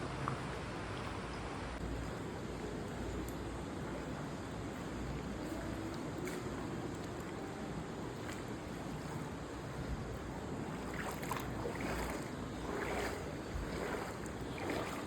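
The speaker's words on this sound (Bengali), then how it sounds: "কেভের নিচে জল, এরকম জলের মধ্যে দিয়ে যেতে হচ্ছে" Feet wade through water inside Siju Cave in Meghalaya, a bat cave. A steady rushing, hissing wash of water carries throughout, with louder sloshing splashes toward the end.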